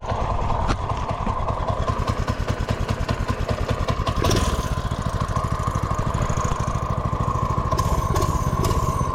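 A Predator 212 engine swapped into a TaoTao drift ATV runs loud and close with a fast, even chugging pulse and a clattery mechanical edge. A brief rise in revs comes partway through, then it settles back to a steady idle.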